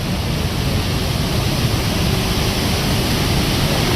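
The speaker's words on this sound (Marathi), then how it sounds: "या नर्मदा नदीवरील हे धुवाधार धबधबे बघा" The Dhuandhar waterfall on the Narmada River roars steadily, a dense, even rush of spray and falling water filling the whole clip without letup.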